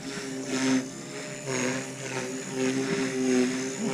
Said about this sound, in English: So one thing I can tell right off the bat is for being a 180, this helicopter is super floaty